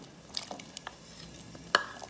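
Onions, tomatoes and garlic for a homestyle kala chana dish are stirred in a pot, with a soft, steady sizzle and scattered scraping clicks, one sharper knock near the end, all quiet and close.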